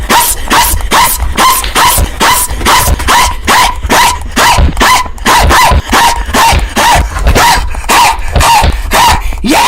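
A dog barks and yips in the Talking Ben video game, loud, close, rapid repeated barks in a steady rhythm that continues throughout.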